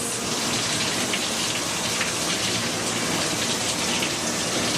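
Water pours and rinses soap from a dog's fur during a bath at home, a dense, steady hiss of spray and splashing that stays close and loud throughout, with no voices.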